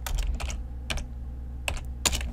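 Soft, close keystrokes on a computer keyboard come in a few short bursts separated by brief pauses, quiet and alone.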